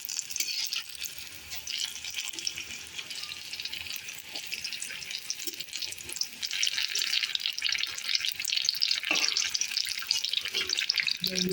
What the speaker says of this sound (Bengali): এখানে লঙ্কার চপ ভাজছি কয়েকটা